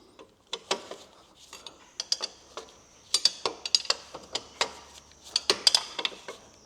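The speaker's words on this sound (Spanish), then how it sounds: "le damos media vuelta a todos y ya los apretamos" Bolts are tightened on a Yamaha NMAX 125 scooter during maintenance, with quick irregular mechanical clicks and ticks coming in bursts, close and moderately loud in an otherwise quiet space.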